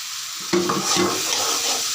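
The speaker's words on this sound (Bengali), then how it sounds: "এখন আমি এগুলোর সাথে ভালো করে কষিয়ে নিচ্ছি" Boiled potatoes stirred and sautéed with tomato in a pan for an egg dish, a sudden sizzle and scraping stir breaking in after a quiet start, then a steady close frying hiss with light utensil clatter.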